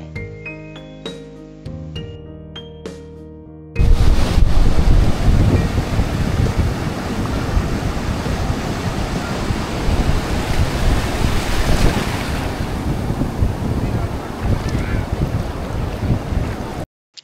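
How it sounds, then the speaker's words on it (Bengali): Sea waves roar along the beach at Cox's Bazar: a loud, continuous, rushing surf mixed with heavy wind buffeting, which cuts in abruptly after a few seconds of music. "সমুদ্রের ঢেউয়ের গর্জন শুনে মন মাতোয়ারা হয়ে গেল।"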